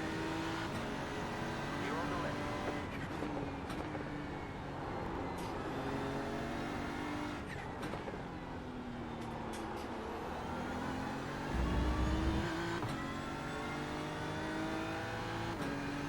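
BMW M4 GT3 and other race car engines drone and rise and fall in pitch in a racing video game at Road Atlanta, as a steady, moderately quiet engine bed under speech.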